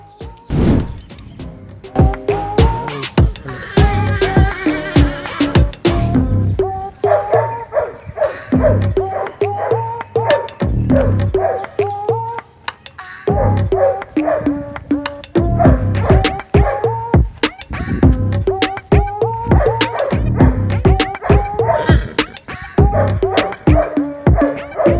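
A dog barks and yips repeatedly at a horse-riding place, loud and close, in quick irregular bursts with short whimpering tones, continuing for the whole stretch.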